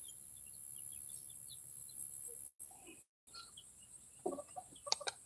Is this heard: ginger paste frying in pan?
no